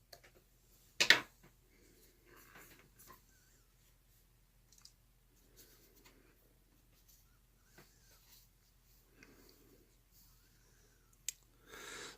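A single crisp snip of scissors trimming thread while tying a Harvester Midge fly, close and quiet, followed by scattered faint clicks and handling noises from the fly-tying bench.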